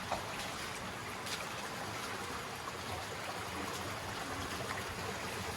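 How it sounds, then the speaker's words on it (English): A small waterfall pours into a stream in Saklıkent Gorge, Turkey, making a steady, close, broadband rush of flowing water with gentle trickling detail, continuous and even throughout with no voices. "Got this little waterfall here"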